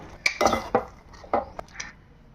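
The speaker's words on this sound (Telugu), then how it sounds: "ఇప్పుడు నేతిలో వేయించుకున్న బాదం జీడిపప్పు కిస్మిస్ వేసుకొని కలుపుకోవాలి" A spoon scrapes and clinks against a pan as ghee-fried almonds, cashews and raisins are stirred into vermicelli kesari, giving a few short, close metallic knocks.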